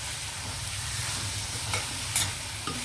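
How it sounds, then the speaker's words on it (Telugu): Prawns fry in a pan with tomato, curry leaves and green chilies for a spicy prawn and ladyfinger curry, a soft continuous sizzle broken by a few stirring scrapes and clinks. "రొయ్యలు వేగేటప్పుడే టమాటో, కరివేపాకు, అలాగే పచ్చిమిర్చి. ఇవి కూడా మనం వేగనిద్దాం."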